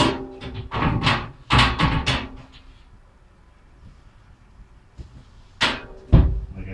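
A glass shower door is lifted off its track, then lowered and pulled free, giving several sharp knocks and rattling clunks in bursts, a quiet pause, and then a couple more hard thumps.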